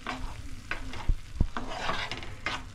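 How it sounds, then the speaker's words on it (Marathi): Masala for egg lababdar being stirred in hot oil in a pan, with a steady sizzling fry broken by a few scraping stir strokes and soft clinks, close and moderately loud, with no talking. "बघूया आपला आता मसाला फ्राय झाला आहे की नाही तेलामध्ये।"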